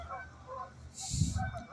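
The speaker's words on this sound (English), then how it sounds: "Let's go chase the geese." Geese being chased let out a short burst of loud, nearby honks in the middle of otherwise quiet surroundings.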